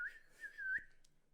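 A person whistles an imitation of Yondu's arrow whistle from Guardians of the Galaxy, a clear sustained tone with a few rising pitch swoops, followed by a short knock.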